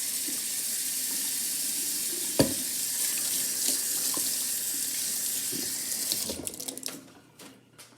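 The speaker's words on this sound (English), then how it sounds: "I'm going to wash my hands." Tap water runs steadily into a kitchen sink during hand washing before pan-cooking blackened red fish, a continuous close hiss with a brief clunk midway, then the flow is shut off near the end, leaving a few drips and small handling sounds.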